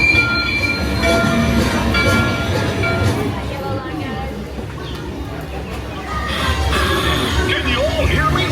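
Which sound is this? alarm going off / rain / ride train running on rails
ride train running on rails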